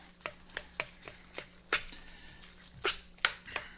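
Bologna salad stirred in a bowl, a run of sharp spoon knocks and scrapes against the bowl coming in an uneven rhythm, close and clear over a low background hum.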